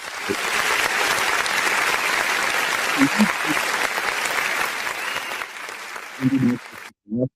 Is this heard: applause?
yes